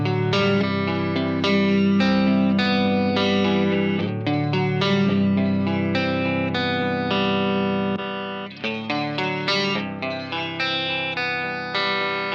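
Electric guitar played with a Strymon pedal bypassed: a run of picked single notes and chords, clear and fairly loud, with a short pause partway through and a steady rhythmic phrasing, no voices.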